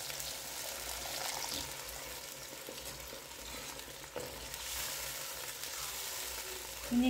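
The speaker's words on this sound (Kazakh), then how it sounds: "азырақ су құйып жібереміз." Water is added to a hot frying pan of tomato mixture for manty, and the close, steady sizzle swells briefly before settling back into a constant hiss.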